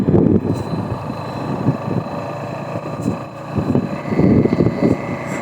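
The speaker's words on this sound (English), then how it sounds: "A little more windy today than yesterday." Wind buffeting the microphone while riding a CFMOTO Papio motorcycle, a loud rumbling roar that swells and fades in gusts over the steady engine drone.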